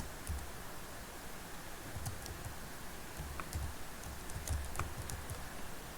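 Computer keyboard typing, soft scattered keystrokes and clicks at close range in a quiet room, with no speech.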